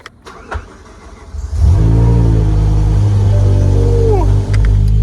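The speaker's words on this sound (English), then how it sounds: "You already know we got to cold start the M5 first" A BMW M5 engine cold-starts with a sudden loud, close roar that flares up and then holds a strong, steady high idle, with a brief dip in volume near the end.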